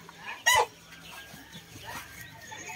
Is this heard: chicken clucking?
yes